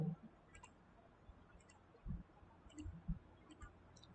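Computer mouse clicks while setting frame timings for an animated image, heard as a handful of faint, sparse, crisp clicks spread unevenly over a quiet background, with no talking.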